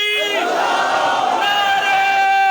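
A large crowd at a religious Friday gathering answers the Takbir slogan with a loud, unified shout that swells and holds for about two seconds.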